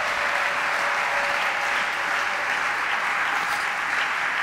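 A church congregation applauds during a worship service, a dense, steady wash of clapping hands that holds evenly throughout without fading.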